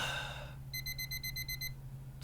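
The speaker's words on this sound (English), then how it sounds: "dreaded alarm clock" An alarm clock beeps in a quick series of about nine bright, evenly spaced electronic tones lasting roughly a second, over a low steady background hum, with a breathy sound just before it starts.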